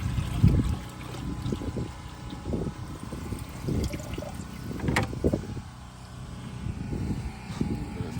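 Water poured from a container back into another near a backyard shower shed with a hose pump, heard as close, uneven splashing and trickling in short bursts.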